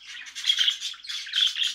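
Sparrows fed a homemade conditioning mix chirp in quick bursts, near and fairly loud, with a short pause midway and no voices.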